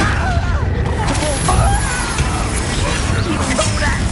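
Explosions from the Confringo fire spell in the Hogwarts Legacy video game, loud rumbling blasts over a dense wash of game noise, with voices present.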